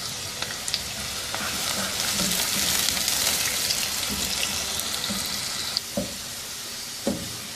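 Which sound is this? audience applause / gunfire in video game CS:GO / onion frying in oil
onion frying in oil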